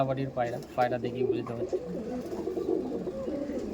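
A male Rajenbali cargo pigeon coos in repeated close, low throaty phrases, with someone talking over part of it.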